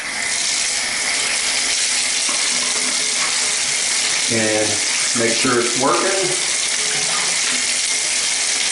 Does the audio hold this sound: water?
yes